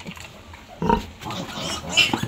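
Mother sow with her newborn piglets, giving short pig grunts and a squeal with a burst near the middle, alongside rustling and higher squeaky sounds, at moderate volume and close by, with no talking.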